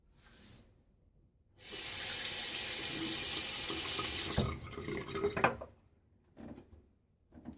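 A bathroom tap runs steadily for a few seconds while a man rinses his face after a wet shave, then the flow cuts off, leaving soft splashes and drips.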